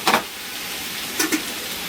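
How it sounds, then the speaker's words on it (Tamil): Bottle gourd and dried fish sauté in hot oil, with a constant soft sizzle broken by two brief scraping stirs, one at the start and one near the middle. "நல்லா வதக்கி இந்த எண்ணெயிலேயே நல்லா வதக்கி விட்டுக்கோங்க"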